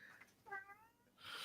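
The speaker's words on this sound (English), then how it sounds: "it's not a pre-recorded meow track. That is a live meow." A live cat meows once nearby, a short rising-and-falling call, quiet and alone over a faint background hum.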